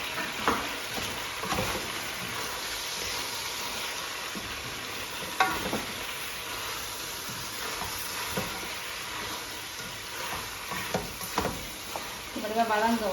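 Prawns sautéing in a pan with chopped tomato, ginger and garlic, giving a steady close sizzle and frying hiss throughout, with occasional scrapes and knocks as the mixture is stirred.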